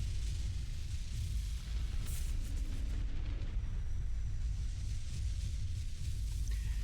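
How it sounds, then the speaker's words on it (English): Explosion in the Star Wars: The Old Republic video game, a continuous low rumbling roar that holds steady throughout, dense and booming with no clear separate blasts. "The explosion is making the game lag"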